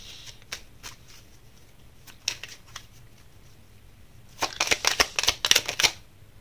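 Tarot cards are drawn and slapped down from the deck in a series of sharp, crisp snaps, a few scattered at first, then a quick flurry of clicks and shuffles near the end, close and quiet.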